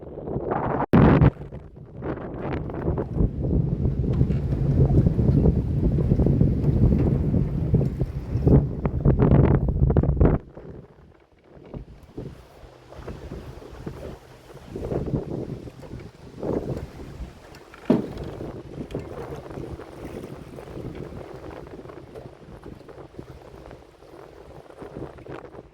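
Gusty wind buffets outdoors beside a river during magnet fishing, a heavy rumbling roar for the first ten seconds that then drops to lighter, uneven gusts.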